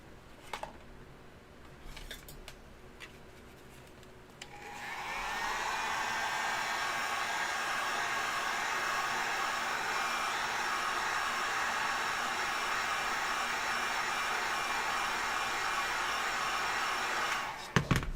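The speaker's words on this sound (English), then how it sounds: "I like to heat this up first with a heat gun." Heat gun blowing hot air onto craft foam for a sculpted hand, a steady close whooshing hiss that starts after a few quiet seconds with faint handling clicks and runs for about thirteen seconds before stopping.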